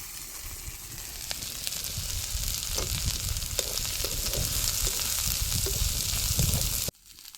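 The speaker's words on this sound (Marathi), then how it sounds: "आता कांदा आपल्याला ह्याच्यात छान परतून घ्यायचा आहे" Onion sautéing with grated coconut in a pan, a steady close sizzle and crackle with occasional soft stirring scrapes, cutting off abruptly near the end.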